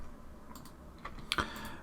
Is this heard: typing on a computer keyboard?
yes